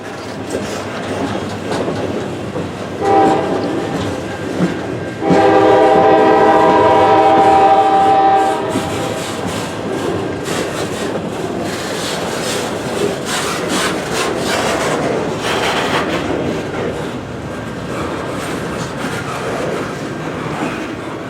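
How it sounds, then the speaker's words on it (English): A loud, steady rumble and clatter of a long container freight train rolling past nearby on Tidewater rails, with a sustained horn-like tone early on. "We will continue to watch the train and I will point out facts along the way."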